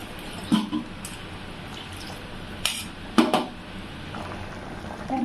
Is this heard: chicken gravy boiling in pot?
yes